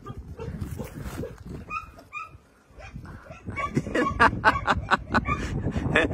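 Excited dogs at a shelter exploring a large new area yip and bark, with sharp rapid barks building near the end and a voice talking in between.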